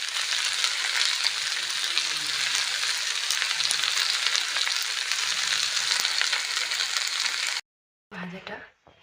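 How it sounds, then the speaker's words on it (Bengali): Squash and potato frying in a kadai produce a loud, continuous close sizzle for most of the stretch, which cuts off abruptly near the end, followed by a short burst of other sound. "ভাজা দিয়ে কড়াইতে বসিয়ে দিয়েছি"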